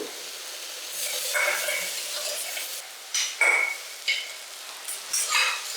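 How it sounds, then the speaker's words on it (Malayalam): Onions with cinnamon sautéing in a pan for Kerala-style kappa biriyani, a steady soft sizzle with a few louder stirring scrapes toward the end; faint voice talk is heard underneath. "നമ്മൾ ഇട്ടേക്കുന്ന സവോള നല്ലപോലെ വഴണ്ടിട്ടുണ്ട് കേട്ടോ"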